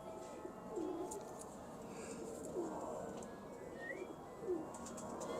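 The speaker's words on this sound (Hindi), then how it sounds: "बहुत अलग कबूतर है।" A fancy pigeon coos softly three times at even intervals, each a low rolling call, over a quiet background with faint chirps.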